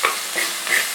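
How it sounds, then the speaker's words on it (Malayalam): Onions with salt are stirred and sautéed in a pan, giving a soft sizzle with a few quick scraping strokes of the spoon, close and alone. "അത് ജസ്റ്റ് ഒന്ന് നമുക്ക് വഴറ്റിയെടുക്കാം."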